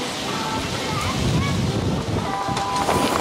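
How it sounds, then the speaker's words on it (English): Strong wind buffets the microphone, a constant rushing roar with gusty swells throughout. "It's a bit windy, isn't it?"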